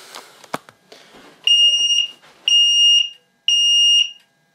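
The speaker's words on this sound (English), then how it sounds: "The detector's just gone off again on the ceiling." A ceiling-mounted smoke detector in a home fire alarm system goes off with three loud, shrill, evenly spaced beeps, each about half a second long, after a few quiet clicks and knocks.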